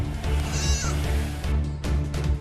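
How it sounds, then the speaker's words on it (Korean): Sheep and goats in a pen bleat together on a Mongolian winter livestock camp, loud and close, several overlapping wavering calls over steady background noise. "우리의 양과 염소들이 일제히 울기 시작했다"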